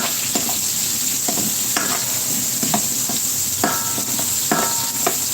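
Onion sautés in a hot pan, a continuous close sizzle broken by repeated scraping and stirring strokes at an uneven rhythm, with no one talking.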